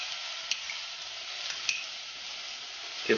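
Crushed garlic cloves sizzling in a pan for vegan tomato and chickpea soup, a soft, even hiss that holds steady, with a few light clicks scattered through.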